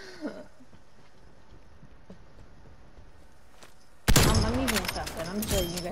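A shotgun in a first-person shooter game blasts loudly and suddenly after several seconds of near quiet, followed by a noisy tail with a voice audible over it.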